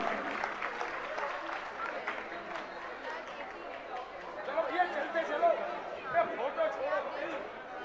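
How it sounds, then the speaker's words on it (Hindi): Scattered audience applause at an award ceremony at a college in Agra, fairly faint clapping mixed with crowd chatter and a voice talking over it. "तालियां बजाएं, तालियां"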